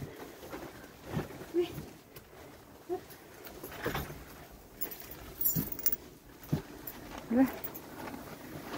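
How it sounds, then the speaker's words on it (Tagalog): Two dogs barking at each other in sharp, scattered bursts separated by short pauses. A person talks quietly underneath, and there are faint jangling and rustling sounds. "Puro okay lang at magkakahulan silang dalawa."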